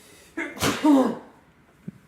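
One sharp sneeze from a person, a quick inhale then a loud burst, followed by a faint small click in a quiet room.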